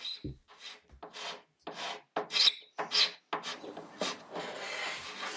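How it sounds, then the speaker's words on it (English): Wide-blade Bahco scraper pulled across the painted wooden side of a buffet, stripping paint in a series of short, rasping strokes with brief pauses between them, close and clear. "I'm scraping the side of the buffet with my Baco scraper. I'm using the wide blade one at the beginning here."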